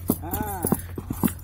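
Horse hooves clip-clop in a loose rhythm during horse training in a maize field, mixed with a whinny-like tonal call and people talking over it.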